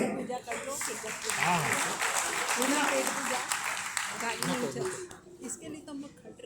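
An audience at a Hindi book launch at a club claps while a speaker's voice carries over it, and the applause thins out toward the end.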